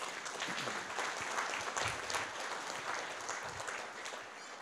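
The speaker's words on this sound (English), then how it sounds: "Please give them a round of applause." Audience applause fills a breakfast meeting on the state of energy in Pinal County, a dense, steady clatter of many hands clapping for several seconds at moderate volume.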